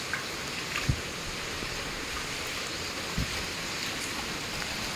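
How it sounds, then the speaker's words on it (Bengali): Light rain falls steadily at night as a soft continuous patter and hiss, with a couple of brief louder drips or knocks standing out. "রাত 1:17, এখনও বৃষ্টি টিপ টিপ টিপ টিপ করেই হচ্ছে"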